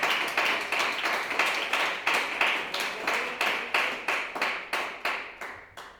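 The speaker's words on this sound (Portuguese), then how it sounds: "Podem bater palmas da glória a Deus." Church congregation clapping in praise to God, a slow, regular rhythm of unison claps, about three per second, loud and evenly spaced throughout.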